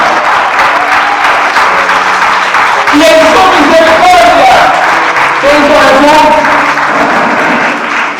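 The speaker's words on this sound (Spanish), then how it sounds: "Un fuerte aplauso al Señor." A church congregation at a Spanish-language service applauds for the Lord, a loud, continuous clapping wash running under a preacher's voice, with music tones rising in the middle.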